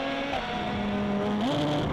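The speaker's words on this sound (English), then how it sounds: "his car is just jumping out of gear there" An open-wheel race car in the Mazda Road to Indy series is heard onboard, its engine droning steadily with a sudden pitch shift as the gearbox jumps out of gear, loud and without voices.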